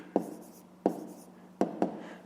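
A pen writes an answer by hand on paper, giving four distinct taps or strokes spaced irregularly, each followed by brief scratchy trailing, close and fairly quiet.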